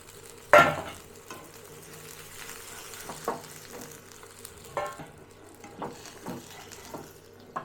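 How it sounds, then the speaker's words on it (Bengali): Gravy for bhetki fish kaliya hits hot oil left over from frying the fish, giving a sharp loud sizzle burst, then settling into a steady crackle with a few stirring scrapes and splutters. No one speaks. "সেই গ্রেভিটা এই যা তেল ছিল তার ভেতরে দিয়ে দিলাম"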